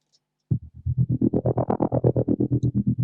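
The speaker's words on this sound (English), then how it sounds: "I used the tremulator on a 16th preset by Sound Toys" A distorted bass note chopped into a fast, even 16th-note stutter by a Soundtoys Tremolator effect, pulsing steadily for a few seconds after a silent start.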